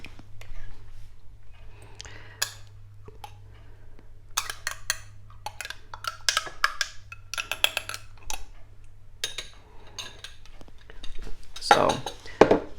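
Spoons scraping and clinking against a glass salsa jar as a couple of spoonfuls are taken out, a run of light metallic taps and scrapes spread over several seconds, close by over a low steady hum, with some soft whispery sounds.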